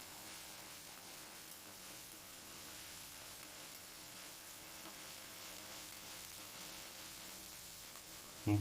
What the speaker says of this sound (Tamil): இந்த 3 காஞ்ச மிளகாவையும் இந்த இஞ்சியும் இதில் சேர்த்துக்கிறோம். சேர்த்து இதை நல்லா வதக்கணும்.